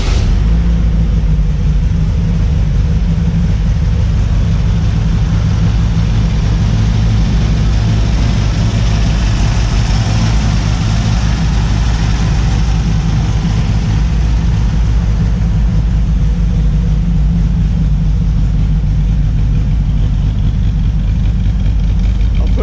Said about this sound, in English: We're starting again, only this time we've pulled the choke.